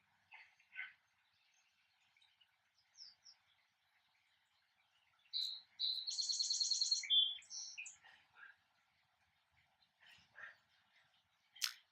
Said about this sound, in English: there's birds in the background